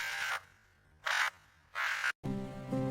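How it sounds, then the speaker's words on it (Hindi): Crow cawing in a few loud, separate bursts with short pauses between them, close by and clear with no one talking. "अब कौवे की कांव कांव की आवाज पहले से तेज सुनाई दे रही है।"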